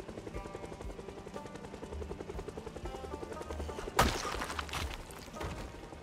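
A helicopter hovers and circles overhead in the zombie survival game Project Zomboid, its steady rhythmic rotor chop running throughout, with a sharp thumping burst near the end.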